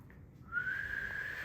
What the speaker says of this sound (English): then whistle